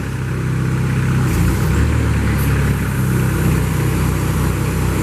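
Steady mid-pitched engine drone and hydraulic hum from a 2012 Moffett M55.4 truck-mounted forklift as its 10-foot mast slides in, continuous and close with no speech.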